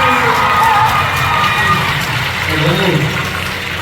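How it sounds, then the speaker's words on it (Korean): A large concert crowd cheers and claps loudly and continuously, with high-pitched shouts rising over the roar throughout. "그걸 다 함께 해준 멤버들에게 큰 박수 주세요."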